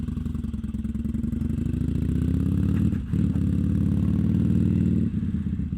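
A Harley-Davidson Sportster motorcycle rides along with a loud, steady engine drone and rumble. The sound dips briefly about midway, as if the rider is shifting gear, then carries on. No one speaks.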